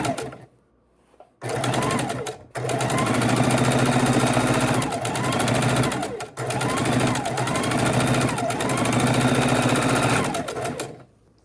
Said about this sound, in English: All right, back to the sewing machine.